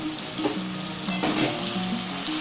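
Chopped tomato and Kashmiri chili powder sizzling in hot oil for a mutton curry, a continuous close frying hiss with brief stirring scrapes.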